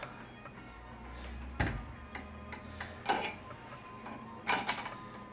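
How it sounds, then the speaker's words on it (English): A dead blow hammer taps a bearing adapter into place through a length of pipe, giving three or four dull, separated knocks over a quiet background, with no talking. "I think I'm going to try it with the dead blow this time just to see how that goes."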